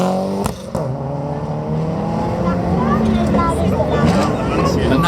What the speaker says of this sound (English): is a four-wheel drive rally car, it's a fourth generation Toyota Celica